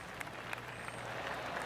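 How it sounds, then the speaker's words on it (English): Polite golf clap from a gallery in PGA Tour 2K25 at the St. Judge Championship: a soft, brief patter of scattered applause, fairly faint and distant, lasting under two seconds. "That deserves a golf clap."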